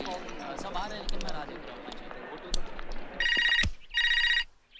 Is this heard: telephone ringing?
yes